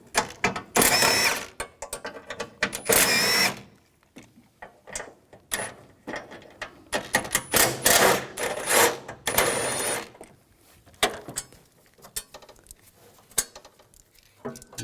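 Ratcheting and clicking of a 13mm socket wrench backing out battery tray bolts on a 2010-2017 Chevrolet Equinox 3.6L, heard in close, irregular bursts of metallic clatter separated by pauses.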